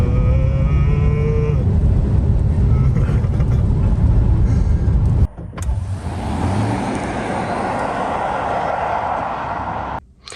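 Tesla Model 3 Performance electric car driving, a loud steady low road and motor rumble with a rising tonal whine, cut off abruptly midway and followed by softer broadband cabin and tire noise.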